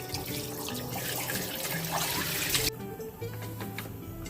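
Rabbitfish cleaned with turmeric, salt and lemon under running tap water in Seychelles, a steady close splashing stream into a sink that drops away sharply partway through, leaving quieter dripping and trickling.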